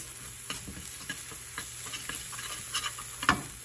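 Country gravy base cooking in a pan while being stirred, a steady close sizzle with repeated soft scraping strokes of the utensil at a gentle, uneven pace, with no talk.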